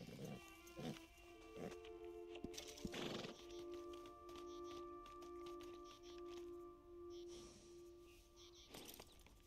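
Horse in Red Dead Redemption 2 Online neighs and whinnies several times, with snorts and a few hoof clops over a low sustained hum, moderately close and quiet.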